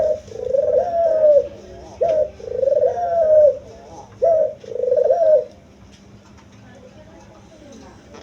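A pigeon kept among other pigeons coos close by, five throaty rolling coos in a steady rhythm, followed by a few seconds of near quiet.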